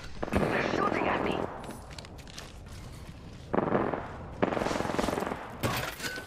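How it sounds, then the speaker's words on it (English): Bursts of rapid gunfire crackle loudly in an Apex Legends match, coming in several separate volleys with quieter gaps between them. "They're shooting at me!"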